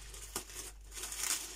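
Packaging crinkling as a parcel is unpacked, quiet close rustles with one sharp crackle and a couple of softer crinkles over a second and a half.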